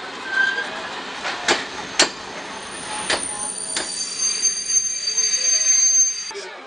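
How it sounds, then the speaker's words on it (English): A migrant train rolls into a station at the Serbian border with clattering wheels, sharp metallic clicks and a rising high-pitched squeal of brakes over a steady rumble. "train coming in"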